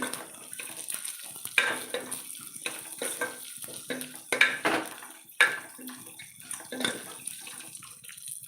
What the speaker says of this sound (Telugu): ఆనియన్స్ మిరపకాయలు కూడా వేగిన తర్వాత అయితే ఇందులోకి కందిపప్పు కొద్దిగా ఉద్దిపప్పు కొద్దిగా అయితే యాడ్ చేసుకోవాలి